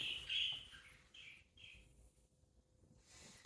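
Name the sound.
pet budgies chirping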